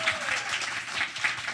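A live audience at a podcast show in Providence claps briefly, a short, close burst of steady clapping.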